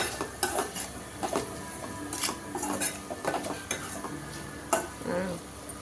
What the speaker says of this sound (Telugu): గోంగూరలు వేసి మంచిగా కలుపుకుందాం